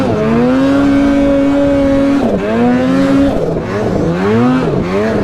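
A snowmobile with modified clutching revs hard up close on an alpine ride, its loud engine whine holding steady, then dipping and surging through repeated rises and falls in pitch.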